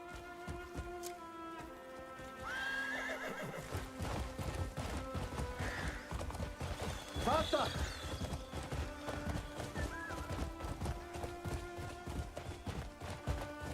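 A horse in the video game Crimson Desert gallops with steady, rapid hoofbeats and whinnies over game music and ambience, fairly close and continuous throughout.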